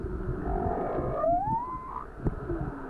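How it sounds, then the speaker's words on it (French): A humpback whale calls underwater off Polynesia, one long, moaning, upward-sliding song note alone over a low ocean rumble, then a short thump. "Pour communiquer, les baleines peuvent produire une large gamme de sons,"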